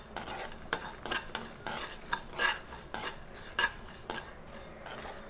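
Cumin, black pepper and curry leaves dry-roasting in a pan for rasam powder, stirred with a metal spoon that scrapes and clinks in a string of irregular strokes, close and clear with no voices.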